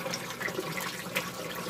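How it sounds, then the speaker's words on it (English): A Haier XQBM22-C compact portable fully-automatic washer drains water during its pre-wash, giving a steady, close rushing and gurgling flow that continues without a break. "I think it's draining the water."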